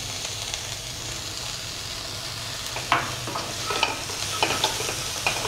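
Cauliflower gobi manchurian stir-fried with spring onion sizzles steadily, then a spatula scrapes and clatters against the pan in a quick run of strokes toward the end.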